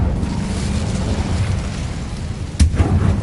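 An Incendio fire spell blasting in Hogwarts Legacy: a loud, dense rumbling roar of flame that holds steady, then a sharp burst near the end followed by more rushing noise.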